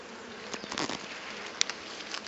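Honeybees buzzing close by, a fluctuating drone that swells and fades as insects move around, with a faint tap partway through.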